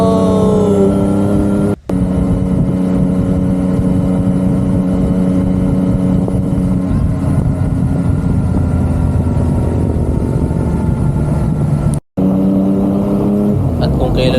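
Yamaha XSR900 motorcycle engine droning steadily while riding on a morning road, loud and continuous with shifting harmonic tones, broken by two brief dropouts; no speech over it.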